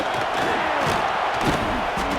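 Stadium crowd at Nebraska in a college football video game, with a dense, continuous roar of many voices and shouting, loud and steady throughout with no pauses.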